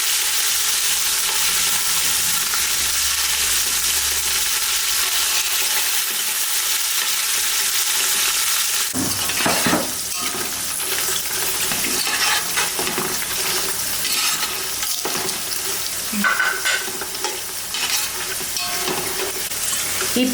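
Paneer pieces and cashews frying in ghee for a vegetable pulao, a steady loud sizzle that swells to bursts of crackling and stirring partway through.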